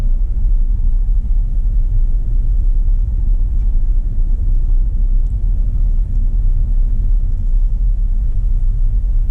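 A small car's engine rumbles steadily while climbing the Mount Washington road, a loud, unbroken low drone with road noise and no talking.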